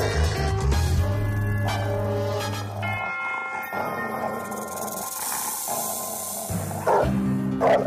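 Dogs barking in a film scene, sharp barks with hissing and noisy movement over a music-like harmonic backdrop, close and fairly loud with no clear speech.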